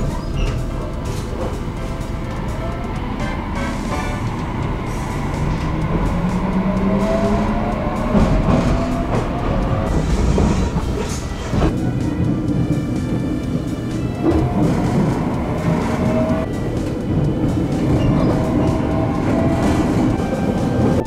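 Train running on rails in Miyazaki, Japan, a steady loud rumble of wheels and carriage noise heard from inside, continuous for about twenty seconds with rattles and some tonal squeal.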